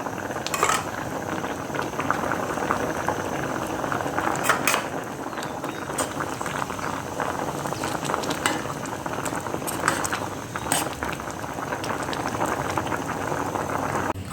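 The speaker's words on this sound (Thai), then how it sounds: "เคี่ยวให้กะทิแตกมัน" Coconut milk with taro and sago simmers and bubbles in a pot, a steady close boiling texture with occasional clinks of a utensil against the pot, no voices.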